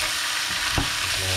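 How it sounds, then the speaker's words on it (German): Garlic and onions frying in a pan for a rabbit roast, giving a dense, continuous close-up sizzle and crackle with a brief stirring scrape in the middle. "wird jetzt hier alles noch schön angebraten"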